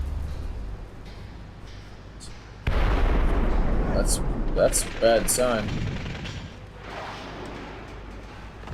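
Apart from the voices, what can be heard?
gunfire and explosions in video game Splinter Cell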